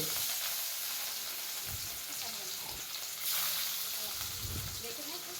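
Fish pieces frying in hot oil in a pan, giving a dense, steady hiss of sizzling that runs throughout, close and fairly loud, with faint low knocks beneath.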